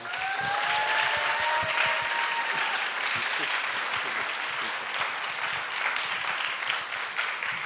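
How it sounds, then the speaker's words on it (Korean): A lecture audience applauds to welcome an invited speaker, the mayor of Yongin, in a dense, steady wash of clapping that holds for several seconds without talk. "다시 한번 박수로 크게 환영해 주시면 감사하겠습니다"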